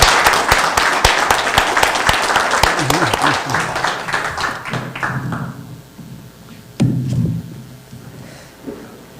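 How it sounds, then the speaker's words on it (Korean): An audience applauds to welcome a lecturer at a history talk in the Ahn Jung-geun memorial hall, dense clapping from many hands that gradually thins and fades, with a brief voice and a couple of late scattered claps near the end. "큰 박수로 모시겠습니다"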